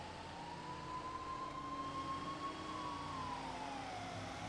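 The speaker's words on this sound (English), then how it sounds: "I could hear the sirens not getting any further away, but not any closer" An emergency vehicle siren wails steadily in the distance during a drive, a faint sustained tone that slowly rises then dips near the end over a constant low road rumble.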